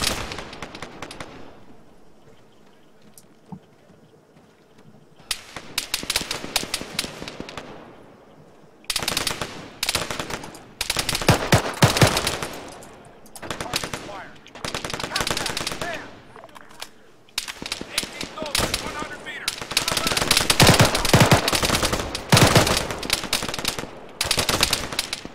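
Bursts of gunfire and rapid machine gun fire in the military shooter ARMA 3, loud and dense in repeated volleys through most of the stretch after a quieter opening.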